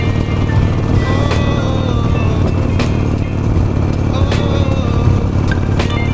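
A 17-year-old Harley Davidson Nightster motorcycle rides uphill with a continuous loud engine rumble, recorded close from the saddle with wind and road noise throughout.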